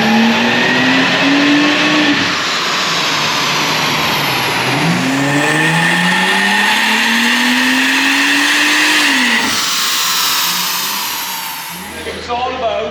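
A supercharged Mercedes C32 AMG roars on a dyno, its engine revving up in long sweeping pulls with a rising supercharger whine, loud and close, before dropping away near the end.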